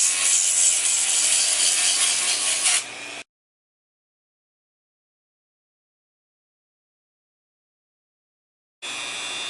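Spinning sandpaper discs on a rotary tool run at medium speed against a foam dart gun, a steady close whirring grind that stops abruptly, falls silent for several seconds, then starts up again.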